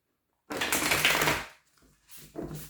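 Oracle cards from the Grand Oracle Français deck are shuffled for a weekly reading: a dense, close riffling burst of about a second, then a pause and two shorter bursts of card handling, with no voice.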